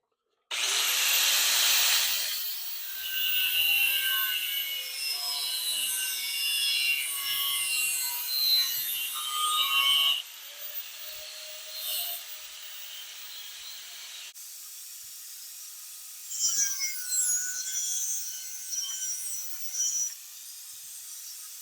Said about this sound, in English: just a nice little slice with the cutoff wheel here